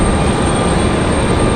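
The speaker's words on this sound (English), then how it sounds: "we're about to have that Delta 737 get a move on here" A Delta Boeing 737 airliner gets moving at Raleigh-Durham International Airport, heard as a loud, steady broadband engine roar with no break.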